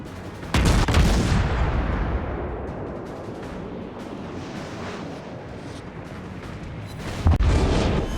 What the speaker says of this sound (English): all I got to do now is line up my AP salvo and execute